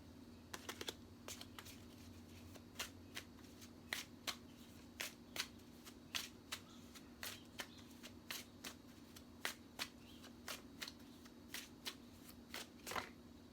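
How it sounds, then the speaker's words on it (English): Tarot cards are shuffled in quick crisp riffles and taps, a series of sharp clicks spread irregularly over a quiet background hum, close and fairly soft. "I was looking at this card and I was shuffling."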